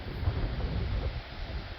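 Low, rumbling northwesterly wind buffets the microphone at an apiary, a constant blustery roar with no other distinct sounds.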